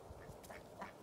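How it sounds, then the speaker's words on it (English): A short, nasal quack-like squawk from a chicken, sounding like a sneeze, rises briefly twice over a low steady background rumble near an old 1982 Ford F-150 pickup. "Had a chicken sneezing or something."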